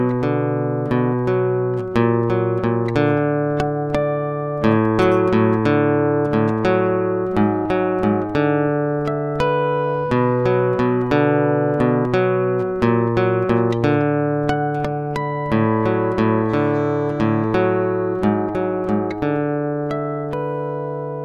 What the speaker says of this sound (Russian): Сейчас давайте послушаем звуковой пример без микрофона, а снятый только на звукосниматель, чтобы послушать, как работает гитара в подключении.